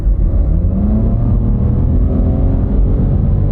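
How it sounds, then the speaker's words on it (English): A small, cheap new Nissan car accelerating hard at full throttle from about 40 mph, its engine note rising loud and steady throughout with no talk over it. "We'll take her down to 40, then we'll floor it."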